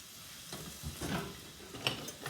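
Onions fry in hot oil in a pan, a soft, faint sizzle with occasional light clinks from a utensil.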